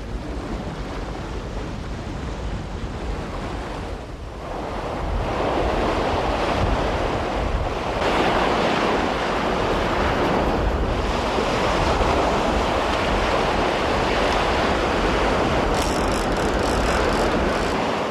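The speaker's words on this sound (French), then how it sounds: "le vent est trop fort maintenant" Strong gusty wind buffets the microphone over steady surf breaking on a coast where someone is surf fishing, a continuous roar with no voices.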